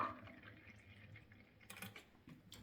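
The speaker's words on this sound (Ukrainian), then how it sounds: "Наливаю трошечки молока." A small amount of milk is poured into a bowl of crepe batter, making a faint, soft liquid trickle with light drips and a few clinks near the end in a quiet kitchen.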